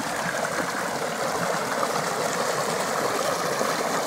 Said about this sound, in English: there's some running water